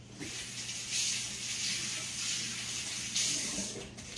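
Water running from a kitchen tap during handwashing, a steady hiss with brief surges of splashing where hands move under the stream, fairly quiet and close.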